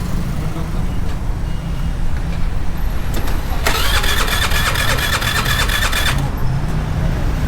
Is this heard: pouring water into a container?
no